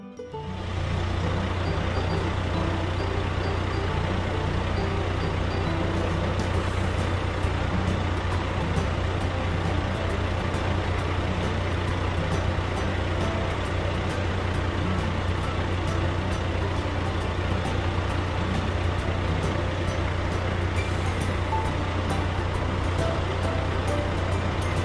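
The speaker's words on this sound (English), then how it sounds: "Mini road sweeper." A mini road sweeper runs loudly and close, its engine holding a steady low drone with a constant mechanical hum and brushing noise throughout.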